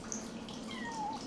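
A cat meowing in the video game Yonder: The Cloud Catcher Chronicles, a single faint rising-and-falling mew over soft ambient game background.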